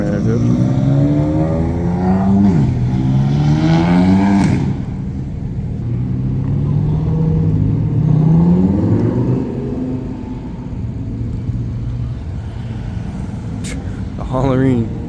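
Cars pulling away from a supercar meet one after another, engines revving hard and rising in pitch as they accelerate off, loud and close at first, then a quieter stretch before another car revs sharply near the end.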